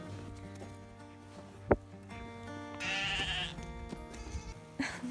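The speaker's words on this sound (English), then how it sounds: "Lucy wants to hang out with the other sheep." A single sheep bleats nearby, a short wavering cry amid low background hum and a soft thump, near a barn.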